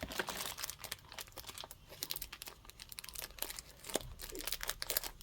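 Patterned plastic craft supply bags being cut open, with dense crinkling and crackling of thin packaging and a few sharp snips, close and continuous with no talking.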